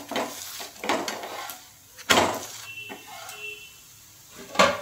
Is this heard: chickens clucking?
no